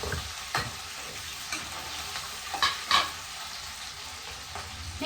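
Dried red chilies, green chilies and onion sizzle in hot oil for sambar while a spoon stirs them, giving several distinct scraping clicks over a steady low frying hiss, close and fairly quiet, with no talking.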